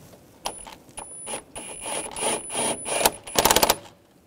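A throttle body worm clamp on a 2013-2016 Dodge Dart is tightened with a ratcheting tool, producing a series of short, close clicking bursts that end in a quick rapid run of clicks.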